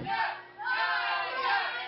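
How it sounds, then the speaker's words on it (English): Crowd at a PCW professional wrestling heavyweight championship match cheering and roaring loudly, swelling in two big waves across the arena with no talk over it. "Crowd firmly behind Najasism, rooting for our heavyweight champion"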